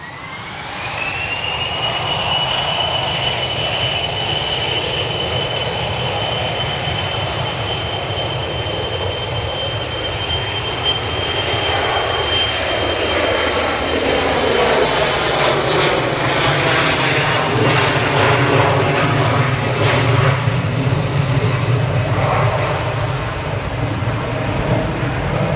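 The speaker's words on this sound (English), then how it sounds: "And we've got this Logan now. Embraer that's looking to depart." A Loganair Embraer jet departs from Manchester Airport, its engines rising from a steady high whine into a broad, loud roar that swells mid-clip and stays strong to the end, heard up close with no talk.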